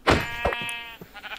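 A sheep in Minecraft VR lets out a loud, wavering bleat up close, followed by a second shorter bleat.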